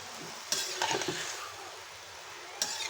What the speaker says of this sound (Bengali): তার জন্য আমি তেলের মধ্যে হলুদটা দিয়ে দিলাম